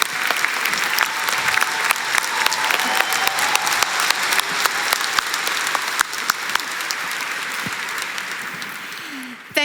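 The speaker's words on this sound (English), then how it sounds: "Can we get a big round of applause for Maria and Shirley?" Large conference audience at Canva Create applauding two honourees, a long steady wave of clapping with crisp individual claps standing out, tapering slightly near the end.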